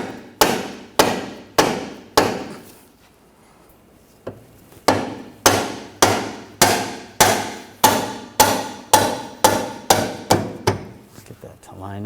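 Hammer taps drive a new bolt into the front lower control arm of a 2013–2019 Ford Escape: about nineteen sharp, close metallic knocks in quick, fairly even runs, separated by one short pause.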